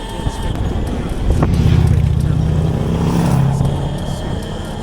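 An Altis Sigma MX electric motorcycle rides at full 22 kilowatt power, a steady close whine and road rush that swells mid-ride, with wind noise and no talking.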